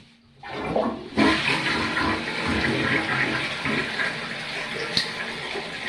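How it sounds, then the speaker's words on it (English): A home toilet flushes loudly nearby, a sudden rushing swirl of water that keeps gurgling and refilling steadily to the end. "Flush the potty."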